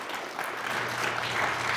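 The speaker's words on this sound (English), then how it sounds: "A round of applause for them" Applause for a competing quiz team, a moderate, steady wash of clapping from a modest crowd with no break.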